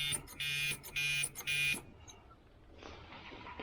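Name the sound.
buzzer sounding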